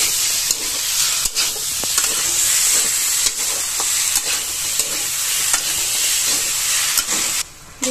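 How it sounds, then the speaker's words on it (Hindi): Chole masala sizzles in a pan while a spoon stirs it, giving a steady frying hiss broken by regular scraping knocks against the pan, close and fairly loud with no talk. "अब सबको मिला के मिक्स कर देते हैं।"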